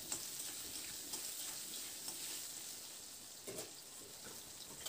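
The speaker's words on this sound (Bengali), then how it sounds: "এবার আলুটাকে মিনিট 2-3 মতো প্রথমে আলুটাকে একটু ভেজে নিতে হবে।" Diced potatoes with salt and turmeric fry in a pan with a steady faint sizzle and a few soft ticks and taps, quiet and continuous, no voices.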